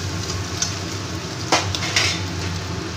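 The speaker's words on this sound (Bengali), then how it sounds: "সেদ্ধ চাউমিনগুলো আমি আস্তে আস্তে করে দিয়ে সবজির সাথে ভালো করে একটু মিলিয়ে নেব" Boiled chowmein noodles with vegetables are tossed and stirred in a pan for egg chowmein, a steady close sizzle broken by a few sharp utensil clinks against the metal.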